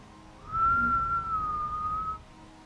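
A person whistles one long, steady note that wavers slightly in pitch for about two seconds, imitating an eerie noise, close to the microphone.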